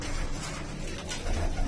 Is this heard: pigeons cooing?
yes